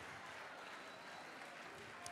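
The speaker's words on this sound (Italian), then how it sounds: "alla direzione creativa di Maddalena Monge, se volete applaudire benvenga." An audience applauds at an event, faint steady clapping heard from a distance and continuing without a break.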